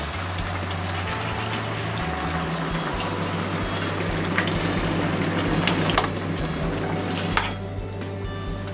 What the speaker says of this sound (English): we let them boil for a little bit